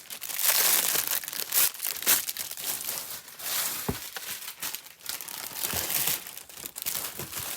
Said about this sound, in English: So all the crinkling is in one area of the video